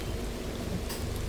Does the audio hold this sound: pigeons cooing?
no